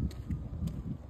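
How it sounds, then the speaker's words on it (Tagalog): Soft, low gusts of wind in a park rumble across the microphone in brief surges, fairly faint. "Naririnig nyo yung hangin."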